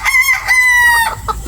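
A Golden Boy gamecock rooster crows once, loud and close, a drawn-out strained call lasting about a second that breaks off into a short rough ending.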